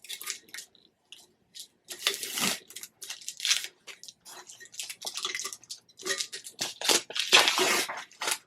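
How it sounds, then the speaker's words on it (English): Sublimation tumblers with a 3D Barbie design are unwrapped after coming out of a double tumbler heat press. Crinkly tearing and crunching bursts come in uneven clusters, close and fairly quiet, with short silent gaps between them. "we are going to unwrap them and see how they turn out"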